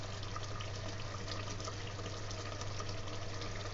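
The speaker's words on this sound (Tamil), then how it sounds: "இப்போ நம்ம தண்ணி ஆட் பண்ணிக்கலாம்." Water is poured into a pressure cooker holding chicken biryani gravy made with seeraga samba rice, a steady, even splashing stream over a low hum, with no talking.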